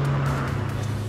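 A small Ford Fiesta engine accelerates hard, a steady close-up drone whose pitch shifts slightly as it pulls, loud and continuous with no talking.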